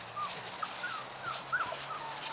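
Australian Shepherd dogs whimper and whine while waiting to go out, a run of high, thin, drawn-out whines that rise and fall over steady background noise.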